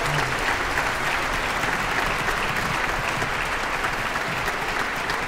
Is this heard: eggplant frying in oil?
no